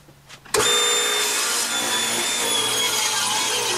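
Table saw with a brand new blade ripping a second taper pass on a wooden leg held in a taper jig, a loud sustained cutting whine starting abruptly after a brief quieter moment and running steadily to the end.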